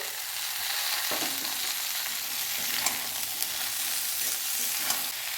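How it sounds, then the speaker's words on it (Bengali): Chopped tomatoes going into a frying pan of sizzling vegetarian potato and drumstick curry, a steady loud hiss of frying with occasional stirring clicks and scrapes, no voices. "এবার টমেটো কুচিগুলো দিয়ে দিচ্ছি।"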